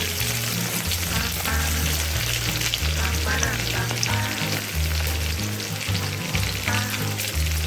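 Green chilies sauté in a hot pan for veg hakka noodles, a loud continuous sizzle and crackle of frying oil, with a steady low hum running underneath throughout.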